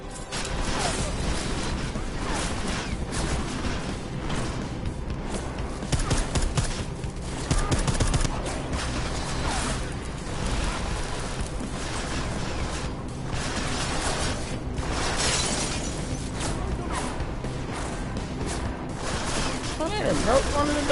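Dense bursts of automatic gunfire and scattered shots crackle through a combat scene in Deus Ex: Mankind Divided, loud and nearly continuous, with someone talking over the shooting.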